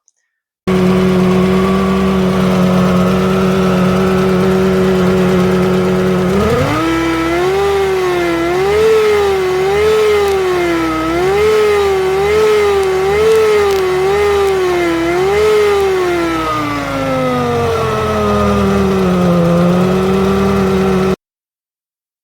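A Mk2 Golf engine in poor condition, blowing smoke from its breather, idles evenly, then revs up and down in a series of quick rhythmic pulses before settling back to idle.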